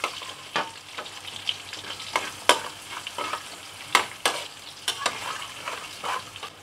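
Garlic and ginger sizzling and frying in hot oil with salt, stir-fried for a dry mud crab curry, with steady crackle and sharp spatter bursts at irregular intervals, close and alone without talk.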